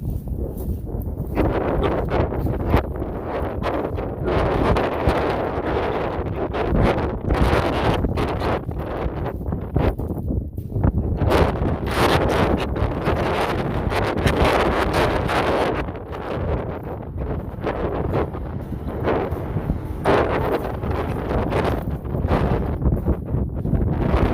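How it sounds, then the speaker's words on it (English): Steady heavy wind buffeting a microphone, a continuous roaring rumble with gusty fluctuations throughout, no voices. "wind noise. But it's kind of windy."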